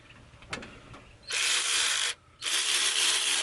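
A Kimo cordless ratchet runs in two loud, steady bursts of about a second each, separated by a short pause, after a faint click and some light handling noise.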